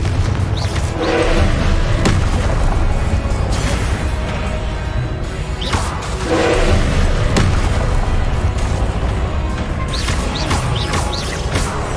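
Confringo blasting spell explosions in the video game Hogwarts Legacy, heavy booms and crashing bursts over a dense, loud battle din, with several sharper blasts standing out.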